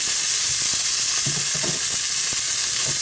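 Hamburger patties and carrots frying in a pan while camping, giving a constant loud sizzle with soft scraping and stirring knocks close by, no voices.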